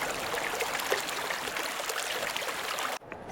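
A creek beside a roadside campsite flows with a steady, broadband rushing and trickling, fairly faint and unbroken until it cuts off near the end, with no voices.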